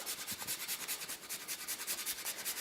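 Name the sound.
grating frozen ingredients with a microplane into a bowl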